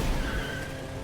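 A car in an open-world anime video game, heard as a brief, loud engine rumble with a skidding, tire-scrubbing edge that rises and then settles into a steady drive.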